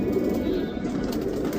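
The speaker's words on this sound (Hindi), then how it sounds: "टटीरा पंजाबी कबूतर, ओरिजिनल पंजाबी कबूतर है माशाल्लाह से।" A red male Tatira Punjabi pigeon coos in a low, continuous, throaty burble, close by and steady over a faint background hiss.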